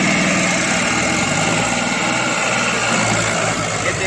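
Tractor engines, a Mahindra 265 DI and a Farmtrac 45, run in a wet, muddy field while trying to pull out a sunken trolley, producing a steady, close, throbbing drone with constant vibration.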